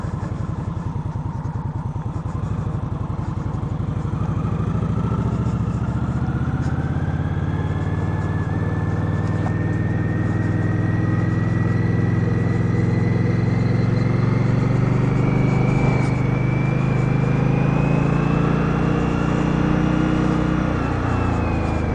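A 2015 Indian Scout motorcycle engine runs continuously on a test ride, a steady loud rumble with rising and falling pitch as the bike changes speed, with wind noise and no voices.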